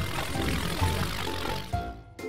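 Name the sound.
aeroplane propeller engine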